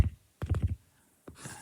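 Keys on a computer keyboard clatter in a quick burst of close clicks, then fall silent before a few more taps and a soft rustle.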